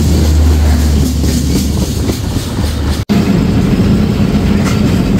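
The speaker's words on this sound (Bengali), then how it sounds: "বিলম্বে একতা এক্সপ্রেস থ্রুপাস করে যাচ্ছে।" The Ekta Express, running late, passes straight through a station without stopping: a loud, steady rumble of rolling railcars and clattering wheels fills the whole stretch, with a brief dropout near the middle.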